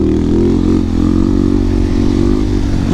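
A Husqvarna 701 700cc supermoto motorcycle rides on icy, snowy roads, its single-cylinder engine a loud, close, steady drone at constant revs.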